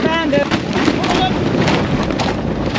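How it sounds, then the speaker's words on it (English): Strong wind buffets a sailboat at sea in stormy weather, making a continuous loud roar and rumble close to the microphone, with faint voices underneath. "Yeah, the wind's picking up."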